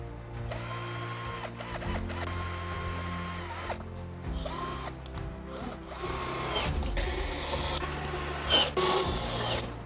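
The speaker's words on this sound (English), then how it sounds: "So to pass the cable through the back, I will have to drill into this." A power drill whirs in repeated bursts, stopping and starting with ratcheting mechanical clicks between runs, close and loud, no talking, drilling through a breaker box to pass a cable.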